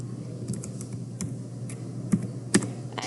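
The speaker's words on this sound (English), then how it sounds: "If I type 10/8 into the calculator" Keys tapped on a calculator keypad while entering a division problem, a sparse run of light clicks with two sharper presses near the end, fairly close over a low steady hum.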